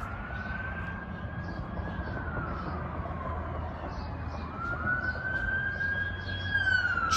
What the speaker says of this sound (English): 7 minutes and 40 seconds in, we got a Tri-State Ambulance.